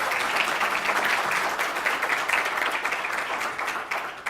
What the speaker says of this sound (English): let's give Jeremy a big round of applause.